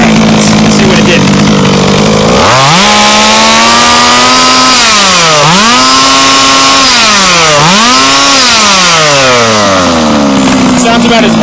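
Gas engine of an HPI Baja 5B RC buggy, freshly leaned about a sixteenth turn at the carburetor, screams loud and close, swelling through several sharp revs that dip and climb again before winding down.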